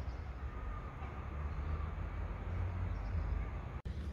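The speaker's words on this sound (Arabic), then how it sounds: "شام وغادي في وسط السكة والتران جاية دابا" A train on a railway track gives off a steady low rumble with a continuous rolling drone, loud and unbroken across the span before a brief dropout near the end.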